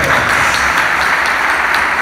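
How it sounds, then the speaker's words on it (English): Loud, dense applause from an audience at a talk, a steady wash of clapping filling the whole stretch with no voices over it. "first let's give them a big clap for"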